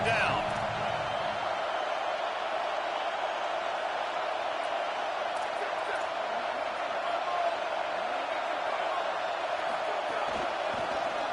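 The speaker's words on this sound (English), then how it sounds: "Here comes this home crowd as the defense tries to get off the field on third down" Home crowd at a Florida vs Texas football game roaring steadily as the defense faces third down, a loud continuous wall of stadium noise that holds for the whole stretch.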